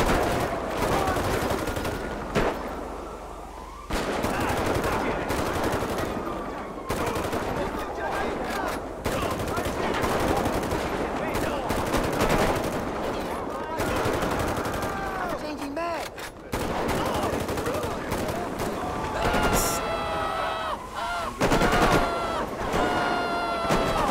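Gang-war gunfire in GTA V, with dense rapid shots and automatic bursts crackling almost without a break and some heavier booms among them, while players talk over the shooting.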